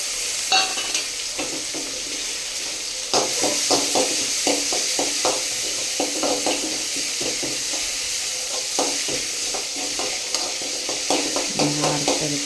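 Urad dal fries in a pan beside pushed-aside onions for uppuma, a continuous soft sizzle broken by repeated scraping clicks of a spoon stirring against the pan, close and moderately loud without any talk.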